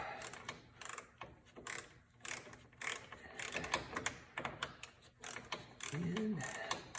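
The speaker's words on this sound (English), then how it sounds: "got my 10mm ratchet" A 10mm ratchet works a radiator bolt on a 1996 Mazda Miata, giving quick quiet clicking bursts of the pawl in short uneven runs, close but faint, with a brief hum near the end.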